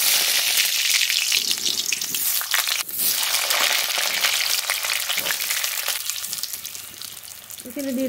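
Vegetables dropped into a little hot oil, a loud close sizzle and crackle with a sharp burst, then steady frying with stirring scrapes.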